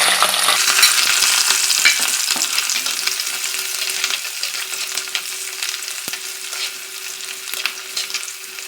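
Small chopped shallots and green chillies frying in hot oil with mustard seeds and fenugreek for a Kerala-style black pomfret fish curry, a steady close sizzle with occasional stirring scrapes and no voices.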